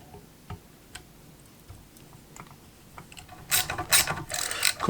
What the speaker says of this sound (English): let's see if I can undo it using this universal spanner